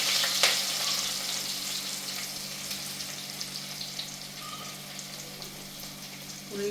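Onions sizzle steadily in hot coconut oil, a dense, close frying hiss that stays even throughout with no one speaking.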